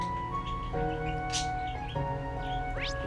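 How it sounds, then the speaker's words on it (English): Birds chirp in short, high tweets and rising calls over a tonal musical backdrop in the port city of Ordis in the video game Trails of Cold Steel III, several brief calls scattered across a few seconds. "You got a chirping sound to you, birds."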